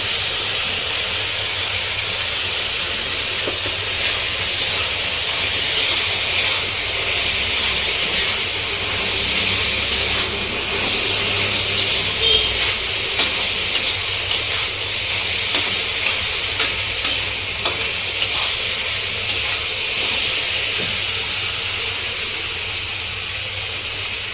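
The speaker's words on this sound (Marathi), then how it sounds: "भाजीला चांगलं तेल फुटेपर्यंत भाजी चांगली परतून घ्यायची आहे" Pavta bhaji sizzles steadily in oil in a black pan, a dense continuous frying hiss with scattered light spatula scrapes and taps standing out midway, close and fairly loud with no voices.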